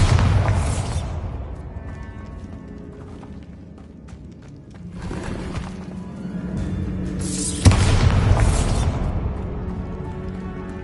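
Bombarda explosion spells cast in Hogwarts Legacy: deep booming blasts with long rumbling tails, one at the start and two more a few seconds apart later, loud and close over game ambience.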